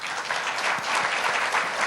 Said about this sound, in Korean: 멀리 미국에서부터 참석을 해 주신 다이앤 웰번 옴부dsman을 큰 박수로 맞이해 주시기 바랍니다.